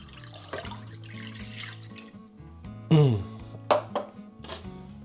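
Milk pours into a pot in several short bursts, splashing and gurgling close up, with clinks of the container in between.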